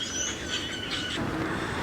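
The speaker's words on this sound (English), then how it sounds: "As we get serenaded by all the flock of birds that just came in." A flock of birds chirps among moss-draped trees in Louisiana's Jungle Gardens on Avery Island, producing a steady, busy twittering over outdoor background noise.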